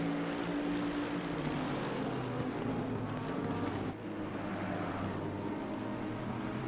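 Racing cars in a PC racing game at Barcelona, braking into a hairpin, a dense continuous engine roar with a brief dip as they slow, no talk.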